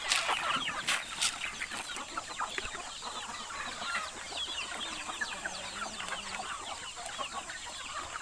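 Chickens cluck and chatter steadily at a moderate distance, a busy coop murmur that runs the whole time with no one talking.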